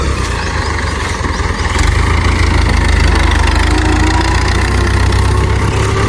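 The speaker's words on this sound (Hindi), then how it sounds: "अब ट्रैक्टर आ गया इधर" A tractor engine runs steadily at a tubewell site on a farm, a loud, continuous low rumble with a faint knocking texture and no talking.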